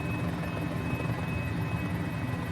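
A Mini-500 helicopter in flight over Easter Island, a steady, loud rotor-and-engine drone with a thick low rumble and a faint high whine, constant with no talk.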